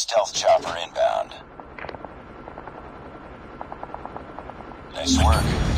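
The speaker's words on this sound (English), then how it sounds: "Stealth chopper inbound." A stealth helicopter flies in during a Call of Duty Mobile match. Brief voiced game callouts come first, then a steady, moderate rotor thumping, and a loud rushing burst closes it out.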